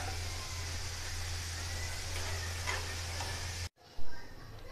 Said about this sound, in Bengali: আবার দ্বিতীয় ব্যাচেও আমি দিয়ে নিয়েছি তেলে। এগুলো নেড়ে ছেড়ে ভালো করে গোল্ডেন করে ভেজে নেব।